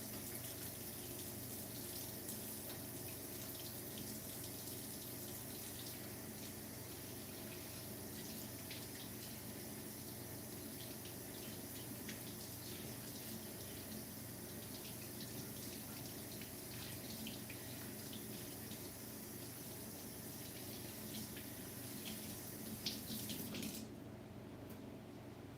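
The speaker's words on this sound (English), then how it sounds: "We're gonna have to wash our hands very carefully." Hands are washed under a running tap, a steady faint stream of water that goes on without a break and ends with a brief splash, with no one speaking.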